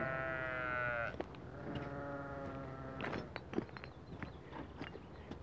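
Sheep heading out to pasture bleat in long wavering calls, several overlapping, followed by scattered hoof steps and shuffling as the flock moves along.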